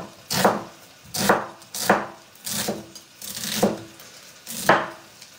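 Onions being chopped on a cutting board, six evenly spaced knife strokes in a steady rhythm, close and clear with no talking.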